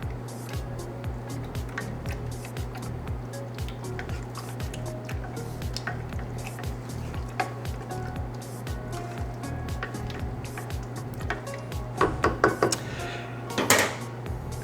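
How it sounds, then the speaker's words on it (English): A pot of sauce with garlic, dried basil and dried oregano being stirred: soft wet squishing and light scraping over a steady low kitchen hum, with a few louder clinks and knocks near the end. "We're going to go ahead and give these a quick stir to kind of bring it all together."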